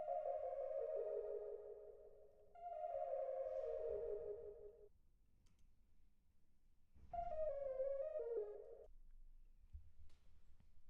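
Serum synth arpeggio patch plays alone as bright, harmonically rich tones in stepped, descending melodic runs, with a first phrase, a second repeat, a pause, then a shorter third burst over a low background hum.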